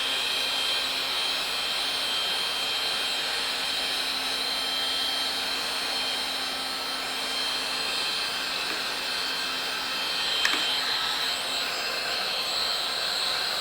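Heat gun blowing hot air over black vinyl wrap on the C-pillar cover of a Mercedes SLC300, a steady close hissing roar held throughout with one brief click near the end.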